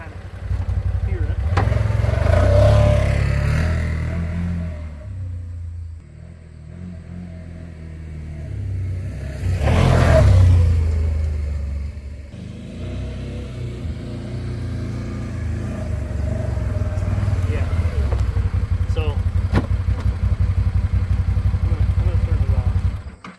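A 2025 Can-Am Outlander XT 850 ATV revs in two strong surges, then settles into a sustained engine drone, with someone speaking over it and some clattering along the way.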